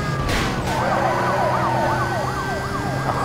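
A police car siren wails in the racing game Need for Speed Most Wanted, its rising and falling tone cycling rapidly over a steady road and engine drone, loud and close with no talking.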